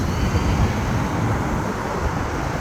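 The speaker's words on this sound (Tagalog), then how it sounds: "Grabe yung sasakyan." Heavy road traffic at night in Mahabula, a dense continuous roar of many vehicles passing, fairly loud and steady with no talking.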